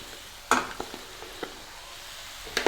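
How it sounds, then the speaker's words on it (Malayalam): Ground coconut paste is stirred into Kerala avial in a pan, with scattered spoon clinks and scrapes over a faint, quiet sizzle. "ഞാൻ അരപ്പ് ചേർത്ത് കൊടുക്കുകയാണ്."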